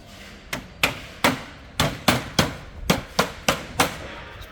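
Plastic cladding bead pushed into a tunnelhouse door frame, tapped home with about a dozen sharp hammer-like knocks in an uneven rhythm, close and fairly loud with no talking.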